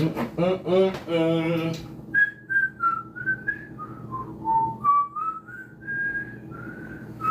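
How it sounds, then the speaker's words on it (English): A person whistles a wandering tune of sustained notes, preceded by a couple of seconds of talking; the whistle is clear and close. "Your mama gonna get you for whistling in the house."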